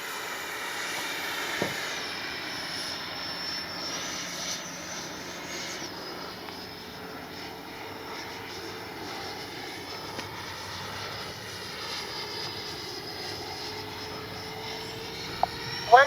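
A Freewing T-45 90mm RC jet flying on a steady, distant whine and rumble, the pitch sliding slowly as it passes, a few faint bumps near the end.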